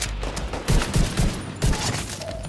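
Bursts of gunfire from The Division 2, a third-person shooter, during a fight in a Washington D.C. museum: a few loud, sharp volleys of shots spaced about a second apart, alone with no talking.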